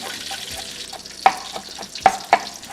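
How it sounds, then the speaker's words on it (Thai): Pounded coriander root stir-fried in coconut milk gives a steady soft sizzle, broken by a few sharp clacks of a utensil against the pan. "แล้วเราก็จะผัด รากผักชี"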